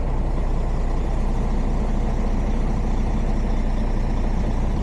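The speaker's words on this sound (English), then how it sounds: "And pulling completely clear of our trailer." A truck tractor pulls clear of its trailer with a steady, close, low diesel engine rumble. The heavy drone stays even throughout, with no talk over it.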